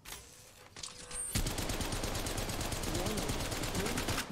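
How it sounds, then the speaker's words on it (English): Rapid automatic weapon fire in Apex Legends Mobile, a long sustained burst of evenly spaced, loud shots following a brief mechanical click and shuffle. "Firing."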